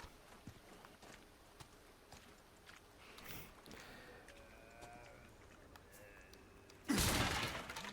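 A barrel is kicked and smashed in Resident Evil 4 played in VR, with quiet footsteps and small knocks leading up to a sudden loud, close crash and splintering burst near the end.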